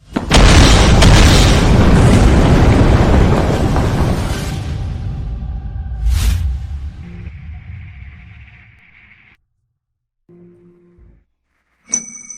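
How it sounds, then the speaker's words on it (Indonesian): A firecracker sets off a leftover wartime landmine: a loud, close blast with a long roaring, crackling rumble that slowly fades into silence, followed by a few faint tones. "Petasan itu memicu ranjau sisa masa perang."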